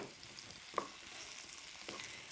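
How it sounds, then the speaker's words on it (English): Cauliflower sizzling and frying in a pan with charred squash for a zesty tagine, a steady soft crackle with a light stir or clink. "We're now going to add the cauliflower"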